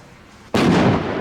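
A Klasek Signature Range Rocket firework bursts with a single sudden loud boom that breaks a quiet windy background and rolls on as a rumbling, crackling tail, with no voices.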